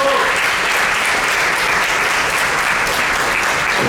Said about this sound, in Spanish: Un fuerte aplauso para Leopoldo Lituma Agüero.